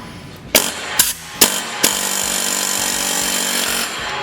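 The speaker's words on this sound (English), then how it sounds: "this is another must-have tool, is this air hammer" An air hammer works a bearing off the auger shaft of an older Toro two-stage snowblower, opening with four sharp hammering bursts and then settling into a steady, loud, continuous pneumatic chatter.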